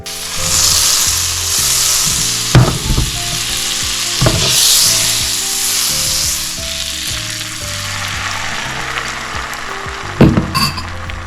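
Scrambled eggs frying in a little butter in a pan, giving a steady, loud sizzle with periodic scrapes and clinks of a utensil stirring, all without talk.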